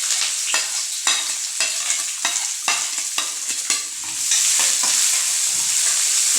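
Onions dropped into hot oil for a potato kurma crackle loudly, with rhythmic stirring strokes scraping the pan, then settle into a steady close sizzle; no voices.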